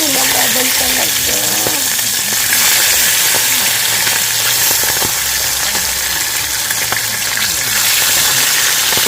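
Loud, steady sizzling of fish frying in hot oil, a dense crackling hiss throughout, with faint clatter and a low hum underneath.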